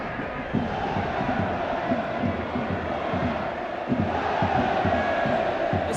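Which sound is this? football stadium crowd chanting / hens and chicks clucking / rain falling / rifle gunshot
football stadium crowd chanting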